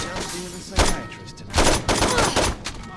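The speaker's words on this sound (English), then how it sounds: "They're just firing at one of their own men." Several close, sharp shots from the video game Saints Row 2, fired in quick sequence with a ringing tail between bursts.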